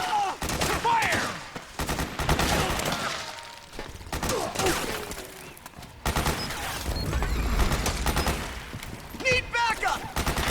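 Metal Gear Solid 4 battle gunfire, with dense bursts of automatic shots, crashes and impacts rattling almost continuously and soldiers shouting over the fight.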